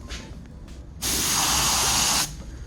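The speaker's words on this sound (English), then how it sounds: "this detail gun, it doesn't put out a lot of paint" A detail spray gun laying clear coat onto a painted wheel: a single steady hiss of a bit over a second, loud and close, starting and stopping cleanly, with quiet ambience before and after.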